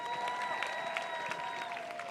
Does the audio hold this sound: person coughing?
no